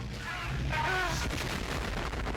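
An explosion in a TV drama scene, a loud boom followed by a rumbling, crackling roar that sustains across the moment without clear speech.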